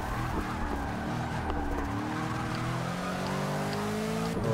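A Bentley GT race car in Forza 6 is driven hard, its engine roaring steadily as it climbs through the revs, loud and close throughout, with no talk.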